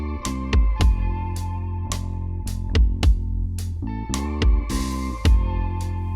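Three stacked indie rock rhythm guitar layers in a full mix, their sustain ducking and swelling back with each thumping kick drum in a steady pumping rhythm, loud and dense.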